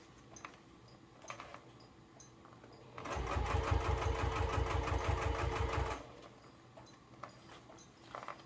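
A sewing machine stitches a seam on a business bag in a single fast, rhythmic run of about three seconds, framed by quiet handling noises before and after.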